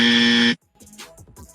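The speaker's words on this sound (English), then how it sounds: "can we drop the dummy buzzer" A single harsh, loud buzzer blast of about half a second, cut off abruptly and followed by faint muffled chatter.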